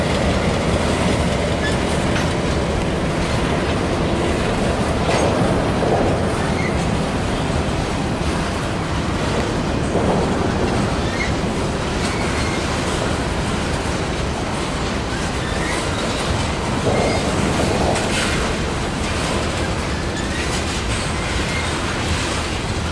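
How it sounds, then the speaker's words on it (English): A New Orleans Public Belt Railroad freight train rolls steadily past close by, leaving a rail yard in New Orleans, a dense continuous rumble with rhythmic clatter of wheels over rail joints and occasional squeals, no talking. "The New Orleans Public Belt Railroad is seen coming out of CN's Mays Yard"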